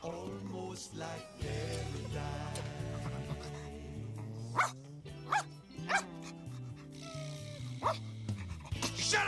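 A dog barks several times in short bursts against a busy backdrop of music and other sound in a 1991 suburban comedy film scene, with voices heard nearby.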